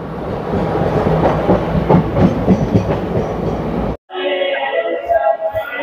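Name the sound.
passenger train running near Mirzapur station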